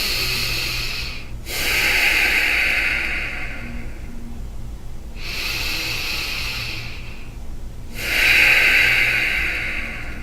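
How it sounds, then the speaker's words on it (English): Three deep, forceful breaths drawn in and pushed out through the nose during a beginners' Kundalini exercise with arms raised, each a long close hiss separated by brief pauses. "let's complete 2 final breaths with our arms up in the air"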